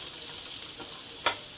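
Onions tossed whole, not ground, into a pan already holding poppy seeds, frying with a steady close hiss and a few stirring clicks.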